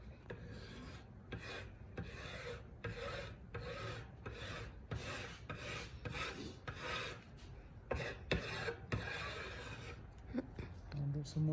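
Repeated rasping scrapes across a wood plank, roughly a dozen rhythmic rough strokes close up, with talking in the background between strokes.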